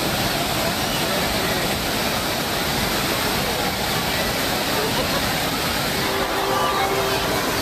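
Water pours over Kodiveri dam like a waterfall, a loud, dense, unbroken roar of rushing water that stays steady throughout.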